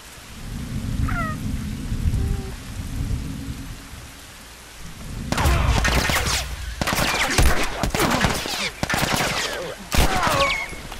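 Gunfire in The Last of Us Remastered: after a stretch of rain-and-thunder ambience, a run of sharp gunshot cracks bursts out in quick succession over the storm, loud and close.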